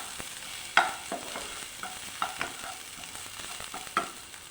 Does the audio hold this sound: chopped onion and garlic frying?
yes